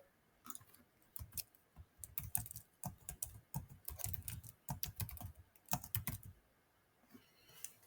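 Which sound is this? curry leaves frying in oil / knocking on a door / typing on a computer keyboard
typing on a computer keyboard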